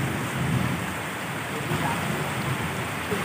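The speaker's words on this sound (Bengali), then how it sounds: "বৃষ্টি একটু বন্ধ হয়ে আসে কিনা দেখি" Heavy rain pours down in a dense, unbroken hiss that stays even throughout, with no voices.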